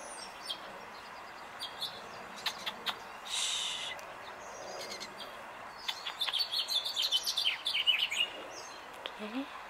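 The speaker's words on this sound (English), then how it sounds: "the California quail and his mate, male and female." A male and female California quail call in a backyard where birdseed has been scattered on the ground. Soft chirps and calls come in scattered bursts against a quiet outdoor background, with a livelier run of calls near the end.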